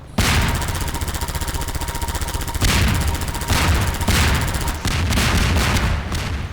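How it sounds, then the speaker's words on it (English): Rapid gunfire in Half-Life 2 hammers an APC in sustained bursts, loud and close, with a few short gaps between volleys and no voices. "We can sneak shoot the APC."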